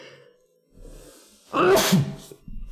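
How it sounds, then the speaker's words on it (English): A single loud sneeze bursts out after a quiet stretch, sharp and close, followed by a brief rustle. "I got a sneeze coming up every stream."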